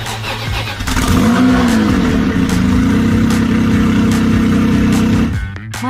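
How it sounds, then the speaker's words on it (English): An engine bursts into life and revs, the pitch sweeping up and dipping before settling into a loud, steady purring drone that holds for several seconds and then cuts off abruptly, used as a sound effect in a dramatized story. "she twisted the handle while the engine purred"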